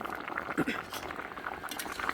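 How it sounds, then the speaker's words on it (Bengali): A pot of fish curry bubbles at a low boil, with soft popping and gurgling up close while a voice talks over it. "মাছের তরকারিটা ফুটছে"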